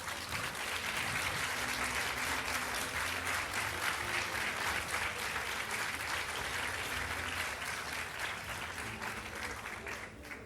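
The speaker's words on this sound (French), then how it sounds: "Je ne saurais interrompre de tels applaudissements" Sustained applause from an audience after a lecture on plants of yesterday, today and tomorrow, a dense, even roar of many hands clapping that lasts about ten seconds at moderate distance and only begins to fade at the very end.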